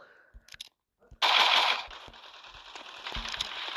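Gunfire in a Roblox shooter game, one loud dense blast followed by a rattling, sustained crackle of shots that continues at a lower level, with faint background noise before it.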